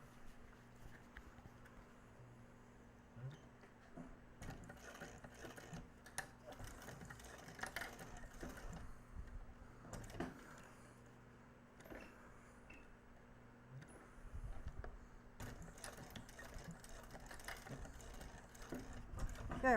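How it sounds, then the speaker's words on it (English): A sewing machine does a short back stitch on both sides of a hole in an accordion-style wallet, giving a quiet, steady mechanical whir and clatter with small bursts of faster stitching throughout. "I'm just going to do a quick back stitch here"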